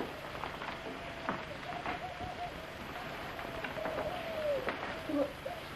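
Pigeons coo softly in a low, wavering tone over a steady wash of outdoor background noise, with no voices.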